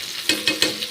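Chopped green chilli, a single onion and a little cabbage being stirred in a hot pan, with a steady sizzle and three or four distinct scraping stirs spaced evenly through the moment, close and fairly loud.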